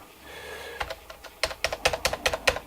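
Keys are typed on a computer keyboard hooked up to an Altair 8800, a quiet hum giving way to a brisk run of sharp, close clicks in an uneven rhythm.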